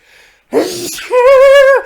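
A loud, explosive sneeze with a sharp intake before it and a drawn-out, vocal tail at the end, close up and alone.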